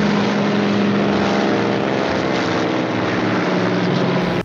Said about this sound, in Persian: السا و ویکتور سوار بر هواپیما در حال دور شدن هستند